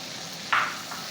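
Medium-sized tomato hitting hot oil in a pan, a short soft sizzle burst that rises suddenly and fades within a moment over a quiet background hiss.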